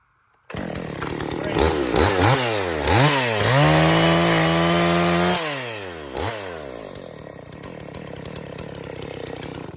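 Husqvarna 55 chainsaw fitted with a new bar and chain starts abruptly and is revved in several rising and falling surges, then holds a high whine before dropping back to a loud idle, very close.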